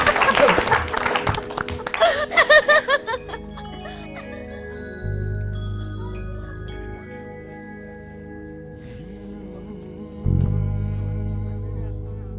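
A studio audience on a morning TV show claps for a singer. Brisk applause fills the first few seconds, then fades out and gives way to tinkling music with sustained tones.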